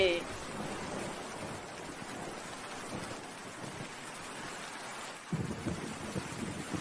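Steady heavy rain with deep rumbling thunder, a louder gust of downpour near the end; a voice can be heard speaking faintly.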